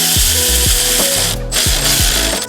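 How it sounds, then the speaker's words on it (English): A hand ratchet tightens a hose clamp on a Toyota Supra's Armaspeed intake, clicking in quick bursts of close, loud ratchet strokes with short pauses between pulls. "hold the clamp exactly where I want it, and get in here with my right hand and tighten it down"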